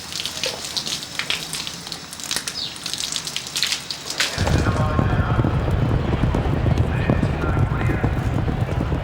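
Horse hooves clip-clop steadily on a racetrack, close and loud at first, then under a broader wash of outdoor noise like rain, with someone talking over the hoofbeats.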